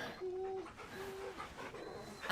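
A dog in Final Fantasy 16 whimpers in a few high, thin whines and then pants softly, fairly close, against a busy game background.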